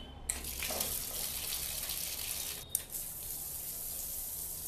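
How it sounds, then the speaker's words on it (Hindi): A bathroom health faucet sprays water at strong pressure, a loud continuous hiss with a brief break partway through, heard alone. "देखिए बहुत अच्छा प्रेशर है यहाँ पे हेल्थ फ्यूसेट का भी, ये देखिए।"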